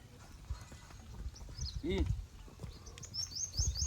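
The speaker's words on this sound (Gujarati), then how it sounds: "જીવા ભાઈ ગો જાઓ ઢોર લઈને" A herd of cattle walks past in a village, their hooves clopping irregularly at close to middling distance. Birds chirp and people talk in the background.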